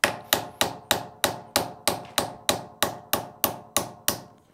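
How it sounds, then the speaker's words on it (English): Hammer tapping an aluminum punch to drift the rear sight on an M&P Shield pistol slide: about fourteen sharp, evenly spaced metallic strikes, each decaying quickly, close and alone. "I will angle it down roughly 45 degrees as I hit it with the hammer"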